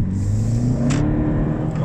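A BMW E46 320d diesel car accelerating, a steady mid-pitched engine drone with a low humming tone building under it, heard from inside the cabin without talk.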